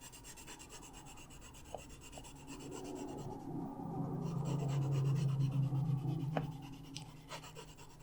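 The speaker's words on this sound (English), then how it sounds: "I'm just kind of burnishing it so we have that nice gradient there." Colored pencil burnishing on paper makes a soft, continuous rubbing and scraping that builds in strength through the middle and then eases, close and quiet, with no talking.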